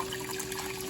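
Water runs and trickles steadily over bagged fresh greens being rinsed in a kitchen, a continuous close splashing wash with no voices.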